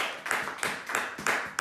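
A church congregation claps in steady unison acclamation during a French-language service, with about five evenly spaced, full-bodied claps in quick succession, no voices on top.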